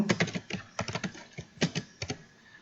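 Rapid clattering keystrokes on a computer keyboard, close and fairly loud, coming in quick bursts with short pauses, no voice over them.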